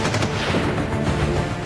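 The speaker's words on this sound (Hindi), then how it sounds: "गोलियां बरसाई गईं" Dense gunfire rattles continuously and loudly through the whole short stretch during a 55-hour counter-terror operation at a seven-storey building in Pampore, with booming reports blending into a dense wash of noise and no voices.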